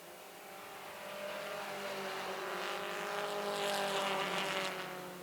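Race cars roar around the track during a 25-lap feature, a steady distant engine drone that swells slightly as the pack passes, with no talk.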